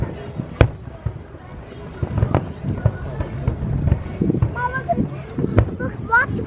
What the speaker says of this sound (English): I'm watching fireworks, Allie.